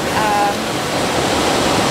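Rushing water close by makes a loud, steady broadband roar with no pauses, filling the whole short stretch.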